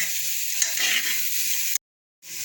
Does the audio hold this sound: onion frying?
yes